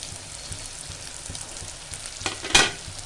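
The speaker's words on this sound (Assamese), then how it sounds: "এইখিনি দি দিম ধুনীয়াকৈ লৰাই থাকিলোঁ" Spice masala for fish curry fries in a pan and gets stirred, a steady close sizzle with faint spoon scrapes and a louder stirring scrape near the end.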